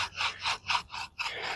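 Bow drill spun with a fidget spinner as the top bearing, sawing back and forth on a wooden fireboard for fire-making: rhythmic rasping friction strokes, about six close strokes with short gaps, no talk.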